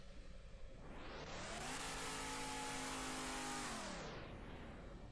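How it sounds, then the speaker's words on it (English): A Subaru races in a city driving video game, its engine rising from a whir to a loud high rev, holding there, then fading away as it passes, with no talking. "But there's a Subaru racing against us."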